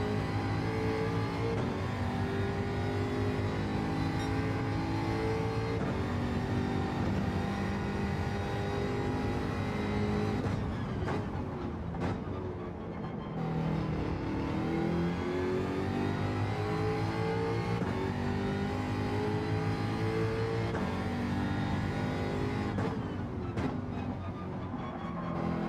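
A race car engine howls steadily around a track in Gran Turismo 7, on fresh soft tyres, with rising and falling pitch through gear changes, loud and continuous for the whole stretch with nobody speaking.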